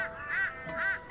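Birds squawk in the post-apocalyptic adventure game Shardlight, two harsh, honking calls about half a second apart, close and fairly loud, with no talking.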